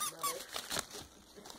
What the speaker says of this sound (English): Here, make it squeak, lady.